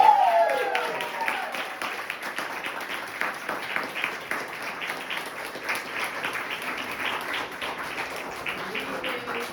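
A small audience at a senior art major's gallery talk claps in a brief round of applause, scattered hand claps settling into a light, even patter, with some faint talk around them.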